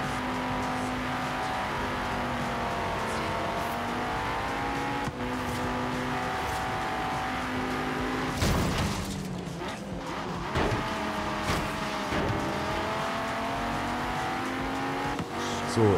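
A buggy's engine races steadily in Forza Horizon 3, a continuous loud drone with shifting pitch, a brief rougher surge midway, and faint voice-like sound in the mix.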